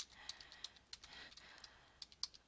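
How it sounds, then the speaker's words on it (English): Keys clatter on a computer keyboard while text is entered into a spreadsheet cell, a quick irregular run of crisp, fairly quiet clicks with no talking. "Just click in cell A2 and start typing."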